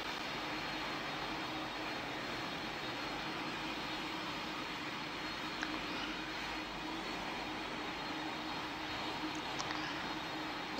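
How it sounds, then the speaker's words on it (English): Aircraft engines on an An-225 in the PTFS video game give off a steady, dense droning roar that holds evenly throughout without pause. "This is a very, very big airplane."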